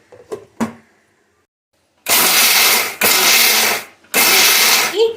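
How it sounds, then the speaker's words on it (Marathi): An electric mixer grinder blitzes roasted peanuts and niger seeds in three loud, whirring bursts with short pauses between, after a few light clicks and taps at the start. "मिक्सरला लावल्यावर आता शेंगदाणे आणि हे आपण एकदा बारीक करून घेऊया"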